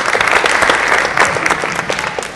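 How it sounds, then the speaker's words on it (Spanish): A room full of people claps to welcome a speaker at a book presentation at a Latino cultural center, a short burst of dense, lively applause that tapers slightly at the end. "denle la bienvenida con un gran aplauso"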